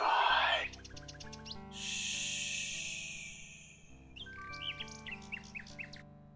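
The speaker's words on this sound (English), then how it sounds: "Alexander winds the mechanical nightingale and places it on the ground." A mechanical nightingale in the DOS adventure game King's Quest VI gives bright, rapid chirps and warbles over a low, steady synthesized music bed. A sharp burst opens the sequence, and the bird sounds keep going in short clusters to the end.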